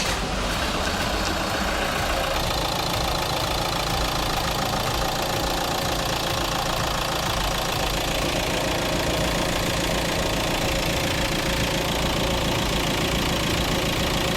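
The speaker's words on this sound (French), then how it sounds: "On peut démarrer le véhicule." A Mercedes B-Class 180 with a 7G-DCT dual-clutch gearbox starts and settles into a steady, loud idle, its engine drone and light mechanical knock running continuously and close by with no talk.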